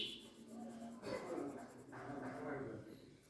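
Colored pencil strokes scratch across paper as grass and scenery are shaded with harder pressure, giving close, dry rubbing sweeps in short bursts over a faint steady background.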